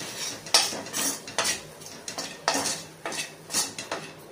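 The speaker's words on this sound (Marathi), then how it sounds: "जसं आपण लाडवाला बेसन भाजतो तसंच आपल्याला हे तुपावर बेसन भाजून घ्यायचं आहे।" Gram flour being stirred and roasted in two spoons of ghee for tilgul poli, a spoon scraping and clinking against the pan in repeated strokes, close and fairly loud, with a faint sizzle beneath.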